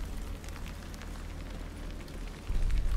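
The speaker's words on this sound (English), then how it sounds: "You can hear the rain." Steady rain hisses in a dark, low rumbling scene from the Alan Wake 2 game trailer, a continuous wash of drops with a heavier low thump near the end and no talking.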